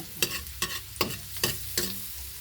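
Chopped garlic frying in a pan, stirred now and then: five sharp scraping strokes fall about every half second over a steady soft sizzle, with no voices.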